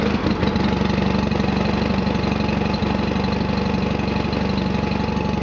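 A John Deere 318 garden tractor engine runs at a loud, steady idle with an even, throbbing rumble throughout and no talking.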